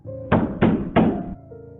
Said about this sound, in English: They ignored my demands and started pounding now, not just knocking